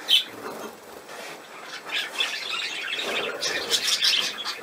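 A pet budgerigar chirps and warbles close by indoors. The short, bright chirps and chattering squawks repeat in an uneven rhythm and grow busier toward the end, with no talking over them.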